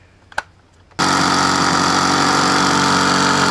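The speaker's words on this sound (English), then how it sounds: "Hope I don't burn my drill up." A brief click, then a power drill's loud motor suddenly whirs up and runs steadily at high speed, close by, until the end, working on a 14mm fitting during a Subaru power steering pump swap.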